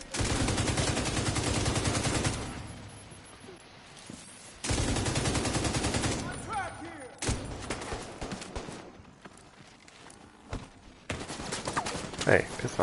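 Shotgun and other gunfire in The Division 2 on PS5, with heavy bursts of shots that stop and start, while a player's voice talks over parts of the fighting.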